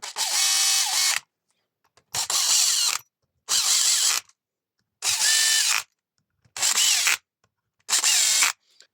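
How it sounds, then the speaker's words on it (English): Six bursts of a cordless torque drill whirring at high speed while driving bolts on a Makita DUH754SZ hedge trimmer, each about a second long, separated by short pauses; close and loud with no talking. "You've got a torque drill."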